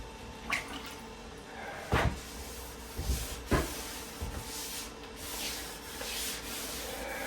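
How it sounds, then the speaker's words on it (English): Hand sanding a car body panel during paint prep, with a steady scratchy rub running throughout and a few sharper strokes and knocks standing out, close by with no talk. "one side's always easier to sand than the other"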